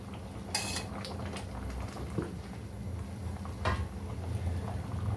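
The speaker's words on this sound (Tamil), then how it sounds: "இப்போது நல்லா சாம்பார் கொதிச்சு வருது." Steady bubbling and hissing of vegetable sambar boiling in a pot, with occasional clinks of a spoon or utensil against metal.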